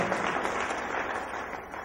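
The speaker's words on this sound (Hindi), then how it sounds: "मैं उनकी ओर से ताली बजाता हूं" Applause fills a room at a birthday celebration closing ceremony, a dense and steady patter of many hands clapping together, fairly loud and continuous with no one speaking over it.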